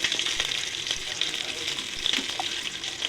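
Ginger garlic paste sizzles and fries in hot oil for chicken biryani, a steady close crackling hiss with occasional stirring scrapes and no talk.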